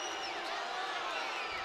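A basketball arena crowd in Spokane reacts to a charge call during a Gonzaga women's game against UC Davis, a faint, steady roar of many voices filling the space with no distinct individual shouts.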